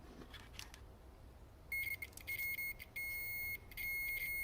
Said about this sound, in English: Okay, I hear the beeping, so we've got a connection.